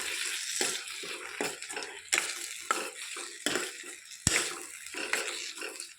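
Drumstick curry with spices being stirred in a pan, a ladle scraping and knocking against the metal in irregular strokes over a soft continuous sizzle, close and fairly quiet.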